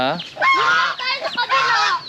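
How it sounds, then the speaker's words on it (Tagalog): Free-range turkeys kept alongside chickens call loudly and close by, a run of harsh, honking gobbles and squawks overlapping across a couple of seconds with brief dips between bursts. "Ayan yung mga pabo. Bumalik na ulit sila."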